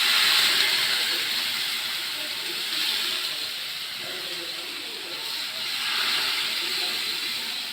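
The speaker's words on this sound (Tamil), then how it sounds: "இப்போ பால் ஊற்றிடலாம்." Milk pours into a pan of roasted vermicelli for payasam, a soft, close hissing and sizzling wash that swells and eases in gentle waves with no voices over it.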